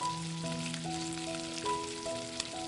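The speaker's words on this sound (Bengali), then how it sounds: "গ্যাসের ফ্লেমটাকে মিডিয়ামে রেখে চিকেনের টুকরোগুলোকে লাল করে ভেজে নেব" Pieces of Gondhoraj chicken fry in oil over a medium gas flame with a steady, soft sizzle under gentle background music.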